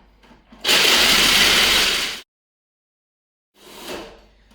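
A food processor blends a vegan cheesecake crust with coconut oil into a crumbly meal, running loud and steady for about a second and a half, stopping abruptly, then whirring again in a shorter, quieter pulse.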